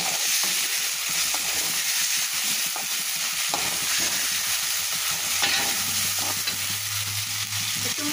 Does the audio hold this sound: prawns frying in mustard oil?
yes